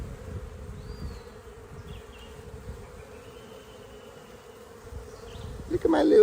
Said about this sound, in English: Look at my little baby bees.